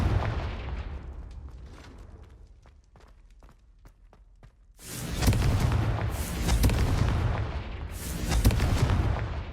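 Confringo explosion spell cast in a Harry Potter video game, a loud booming blast that bursts out after a run of soft footsteps and clicks, then rumbles on in heavy surges.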